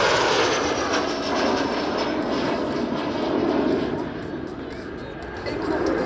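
Patrouille de France jets fly over an airshow at an air base, a loud, continuous roaring engine rush that swells and fades slightly, with crowd murmur beneath.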